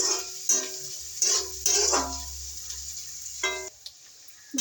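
A spoon stirs egg curry frying in a pan with salt and turmeric, giving a few scraping clinks over a low soft sizzle, then a quieter pause before one last scrape.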